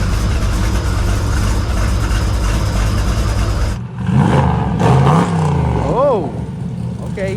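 A 4x4 NASCAR truck engine drones loudly and steadily up close, then drops away and revs again in rising and falling surges.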